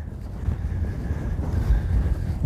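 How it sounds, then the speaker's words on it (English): Heavy wind buffets the microphone in continuous low rumbling gusts, loud and close, with no voices. "It is also windy."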